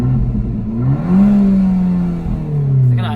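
An Abarth 595 Esseesse engine rises in pitch with a quick throttle blip, holds a loud, close rev, then falls back and climbs again, heard from inside the car.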